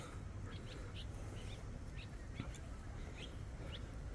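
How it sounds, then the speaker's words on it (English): Birds chirping in a tree at sunset in St. Lucia, with faint, scattered high tweets repeating every half second or so over a steady low background rumble. "bird parties in that tree over there"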